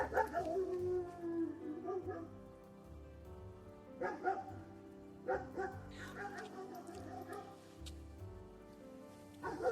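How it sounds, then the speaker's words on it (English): Dogs chasing cats bark, yip and howl at a distance outdoors, in repeated bursts of excited yelping and baying, faint against a quiet background. "Dogs chasing cats."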